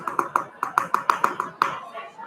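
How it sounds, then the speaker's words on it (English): Sharp hand claps echo through a board meeting room, about a dozen in a quick, steady rhythm before they trail off. "What's that clapping?"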